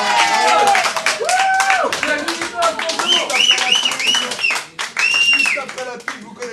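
A television studio audience claps in quick, rhythmic bursts while voices talk and call out loudly over the applause throughout.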